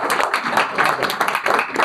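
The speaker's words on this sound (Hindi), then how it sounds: "जोरदार तालियां मुझे।" An audience claps for students at an event in India, dense rapid applause close and loud, filling the whole moment without pause.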